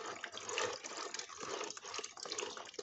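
Liquid poultry manure fertilizer mixed with water pours and trickles through a strainer in a faint, continuous splashing flow, close by and without voices.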